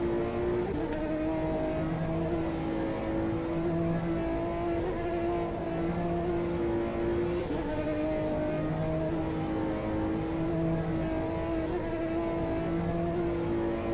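Aston Martin GT1 race car engine in the Automobilista 2 racing game, a steady buzzing drone held at high revs with a few slight pitch shifts, loud and continuous throughout, no talking.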